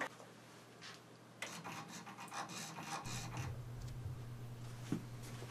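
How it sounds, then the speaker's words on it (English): A small JGY-370 geared motor, driven by a microcontroller to random shaft angles, grinds and whirs in short irregular bursts with a low steady hum underneath, fairly faint and close. "a Micromite program that is generating 10 random shaft angles and driving the motor to those angles"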